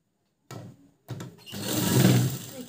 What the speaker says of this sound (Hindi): बाद हम लोग यहाँ से इसको स्टिच कर देंगे।